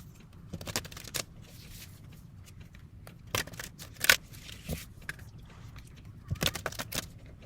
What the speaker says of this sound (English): Give these a good ruffle shuffle.